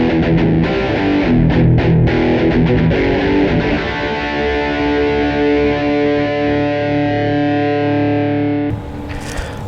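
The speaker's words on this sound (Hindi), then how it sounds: "मैं सबसे पहले आपको दिखाता हूँ कि मेरा जो डिस्टॉर्शन पैच है वो कैसा साउंड करता है" A Fender electric guitar plays through a distortion patch on a Zoom multi-effects processor: loud, heavily distorted chords strummed rhythmically, then a long ringing chord that sustains until it cuts off into a brief hiss.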